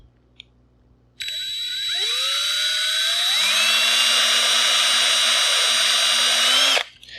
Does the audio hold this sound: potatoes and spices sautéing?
no